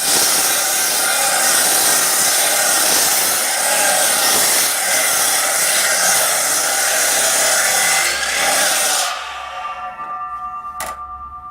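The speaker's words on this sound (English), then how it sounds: "as you can see, we're using a Dewalt compound saw" A Dewalt compound miter saw cuts through timber outdoors, a loud, steady high-pitched whine and grind lasting several seconds that cuts off abruptly as the blade spins down, followed by a brief metallic click.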